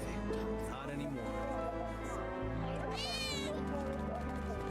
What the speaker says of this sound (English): I know there's a cat down here somewhere